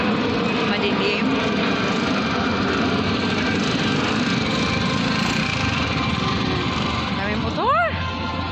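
Many motorcycles pass by on a road at night, their engines blending into a steady, dense roar with a brief louder pass near the end, while a voice speaks over the din.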